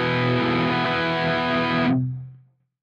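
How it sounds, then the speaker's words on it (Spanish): An electric guitar runs through the distortion pedal of a GH Systems pedalboard, playing a single thick, sustained chord. The chord rings loud for about two seconds, then cuts off cleanly with a short low tail and no background hiss. "Acá tengo la distorsión."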